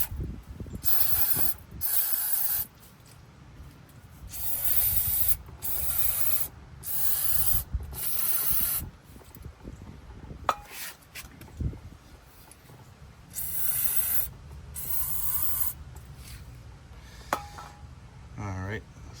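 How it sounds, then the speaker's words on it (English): Aerosol brake cleaner hisses in repeated loud bursts of varying length onto the front brakes of a 2022 Audi A3, with short gaps between sprays and some clinks of tools in a garage. "hit all this with some brake clean"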